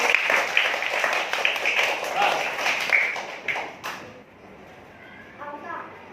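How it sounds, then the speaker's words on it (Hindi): A group of children clapping hands together in a classroom activity, a burst of fairly loud, close rhythmic claps lasting about four seconds before stopping, followed by quieter speech. "सही है, ताली बजाएंगे"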